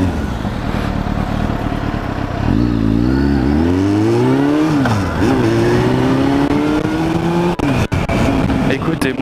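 A motorcycle engine revs up close and loud, climbing and dropping in pitch across several throttle blips, then holds a steady rising drone with a couple of brief dropouts.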